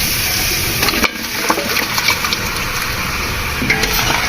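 Beef trotters go into sizzling masala and get stirred, giving a steady close frying hiss broken by wooden spoon knocks and scrapes against the pot.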